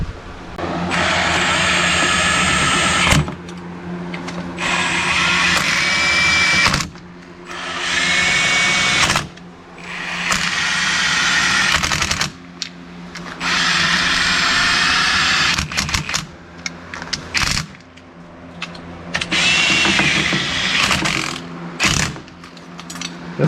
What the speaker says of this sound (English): Let's bolt this thing up.